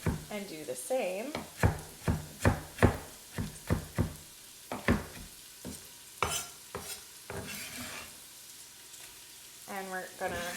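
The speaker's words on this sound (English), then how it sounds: "And we're just gonna cut the celery and do the same." Celery being cut with a knife for chicken noodle soup, a series of sharp, fairly close chops in an uneven rhythm, with short pauses between bursts and a faint kitchen hum underneath.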